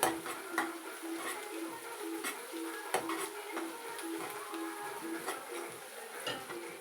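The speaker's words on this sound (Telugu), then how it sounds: "దీంట్లోనే కొద్దిగా అల్లం వెల్లుల్లి పేస్ట్, కొద్దిగా వేసి సరిపోయింది. కొద్దిగా ఫ్రై అవ్వాలి." Ginger garlic paste with onion frying in hot oil for a mixed vegetable masala curry, a steady close sizzle with repeated stirring clicks and scrapes of a spoon against the pan, no talking.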